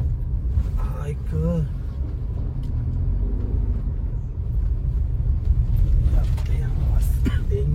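A car rumbling and shaking along a rough stretch of the Mumbai–Goa highway, a steady low droning rumble throughout with a voice talking over it.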